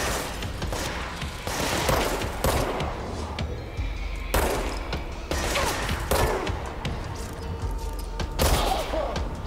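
Bursts of pistol gunfire ring out in the video game Control, several loud sharp shots in irregular clusters with echoing tails, no talking over them.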